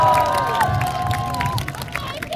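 A crowd at an outdoor election campaign rally for Kim Moon-soo at Dongdaegu Station in Daegu cheers and shouts in a loud, continuous wash of voices, with scattered clapping mixed in.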